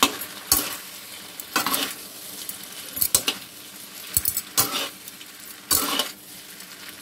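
Chow mein gets tossed in a hot pan with tongs: repeated sharp metallic clacks and scrapes at irregular intervals over a faint sizzle, close and fairly loud, without any talking.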